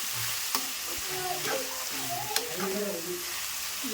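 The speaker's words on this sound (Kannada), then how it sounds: "ನಾನು ಈಗ ಟೊಮೆಟೊ ಹಣ್ಣು ಫ್ರೈ ಆಗಬೇಕು" Tomatoes frying in a pan, a constant bright sizzle with light stirring and scraping while a voice talks over it.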